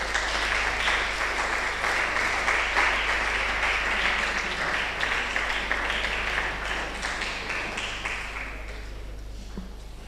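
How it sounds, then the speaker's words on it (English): Audience applause for a guest speaker at a healthcare seminar, a steady, full round of clapping from many hands that gradually thins and tails off toward the end. "a round of applause for our guest speaker for this event, Dr. Kehinde ADENEGAN"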